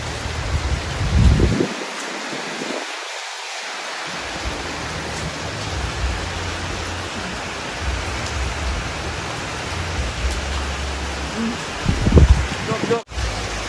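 Heavy rain pours steadily with gusting wind in a rural Thai village, a dense broadband roar filling the whole clip, with brief louder gusts near the start and end.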